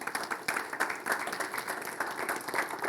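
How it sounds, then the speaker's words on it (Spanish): A church congregation claps together in a steady, dense burst of applause that stays fairly even in loudness for about three seconds, with no talk over it. "Un aplauso al Señor."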